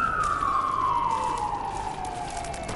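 A passing ambulance siren holds a loud, sustained wail whose pitch slowly slides downward as the vehicle moves off, heard alone over faint street rumble.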